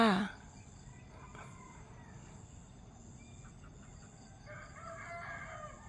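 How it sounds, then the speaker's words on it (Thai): Chickens cluck and a rooster crows faintly in an open mango orchard, with birds and crickets chirping softly in the background. "เสียงไก่ เสียงนกสวนมะม่วงมีหลายสายพันธุ์ค่ะ"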